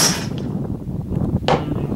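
Suppressed gunshot from a .500 Whisper large-calibre subsonic rifle cartridge, played back from a recording: a muffled broadband thump around the middle of the clip, then a sharper burst, over a noisy background.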